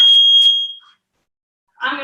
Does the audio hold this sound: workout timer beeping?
yes